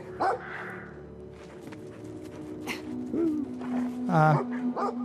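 A dog in the video game Brothers: A Tale of Two Sons gives short barks, yips and whimpers, close and fairly loud, while someone talks over the game sound.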